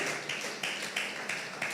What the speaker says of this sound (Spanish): al Señor sean los aplausos